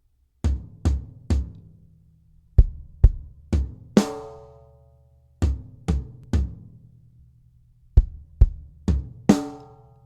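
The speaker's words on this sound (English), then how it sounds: "3 notes on the tom, 1 note on the kick, 1 note back on the tom" Gospel drum fill played on toms, kick and snare, in short groups of crisp separate hits with a ringing cymbal crash closing each phrase, loud and close with no talking.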